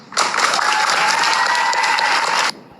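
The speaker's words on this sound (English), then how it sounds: "we don't need to hear people clapping for Gypdip" A burst of people clapping starts abruptly, holds as even, dense applause for a little over two seconds, then cuts off sharply into quiet.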